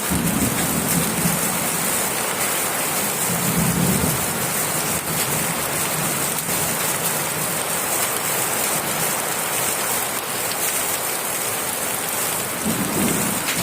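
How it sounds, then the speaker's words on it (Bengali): Heavy rain pours down in a dense, loud, unbroken roar during a thunderstorm in Sreepur, with low thunder rumbles swelling beneath it at intervals. "বৃষ্টির গর্জন কিন্তু আপনারা শুনতে পাচ্ছেন"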